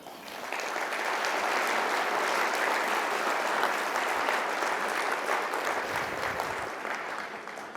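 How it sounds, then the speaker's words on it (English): Crowd at the San Antonio Business Hall of Fame awards gala giving a warm round of applause, steady full-room clapping that swells and holds for several seconds before tapering slightly, no talk over it. "please help me give a warm round of applause for all of our sponsors tonight"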